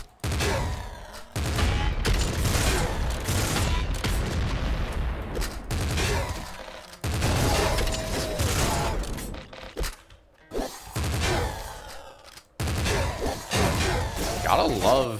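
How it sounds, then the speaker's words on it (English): Shotgun fire in the game Nuclear Throne, heard as repeated loud, crashing blasts and bursts of gunfire across the stretch, with gaps between volleys and a voice talking at times. "Gotta love shotguns."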